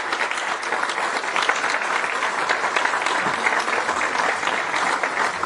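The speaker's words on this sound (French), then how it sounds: "On l'applaudit très fort" At an International Women's Day gathering, the audience gives Ghislaine loud, continuous applause, a thick, close crackle of many hands that stays strong throughout.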